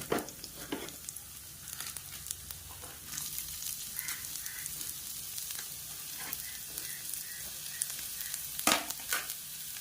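Onions frying in a hot pan for a chicken tawa chilli fry, with a steady soft sizzle and crackle that goes on for about ten seconds, broken by a few stirring scrapes and small pops, with no talking.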